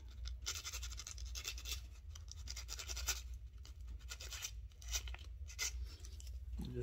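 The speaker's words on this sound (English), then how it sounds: "I'll get a little sandpaper. Get them a little, take the burrs off." Sandpaper rubbing burrs off during a wheel swap, a run of faint, close, rhythmic scratchy strokes repeated over a low background hum, with no talk.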